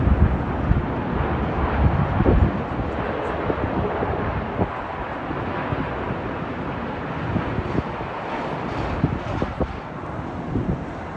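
A Boeing 787-9 airliner on approach into Heathrow, heard as a steady broadband roar with wind buffeting on the microphone, sustained and fairly loud throughout with no clear rise or fade.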